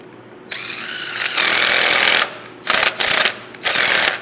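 A CNC mill spindle strains as it tries to pull a stud out, loud grinding and ratcheting bursts that start, hold, stop, then return in several short stuttering pulses.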